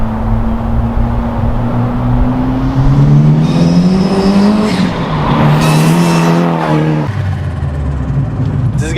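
A modified Vauxhall Corsa B engine revs up, its drone climbing in pitch before dropping back, followed by a sharp hiss and flutter of the dump valve, all loud and close with no speech.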